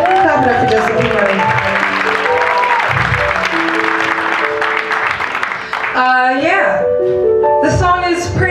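Audience applause at a live concert at The Cutting Room, a continuous crowd wash under a performer's amplified speaking voice and sung notes, steady and fairly loud throughout.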